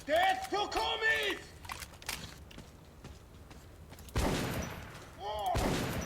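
A shotgun fires in Metro 2033 Redux, with several sharp, loud blasts spaced a second or two apart, mixed with game creature sounds and a voice talking.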